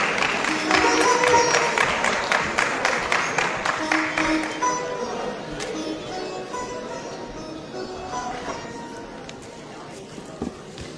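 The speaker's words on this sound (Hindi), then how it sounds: "बड़े ही सम्मान के साथ एक जोरदार तालियों के साथ आप आमंत्रित करें" Sustained crowd applause from an audience at a Constitution Day gathering in Lucknow, welcoming a High Court advocate to the stage. The clapping is dense and steady at first, then gradually thins and fades toward the end.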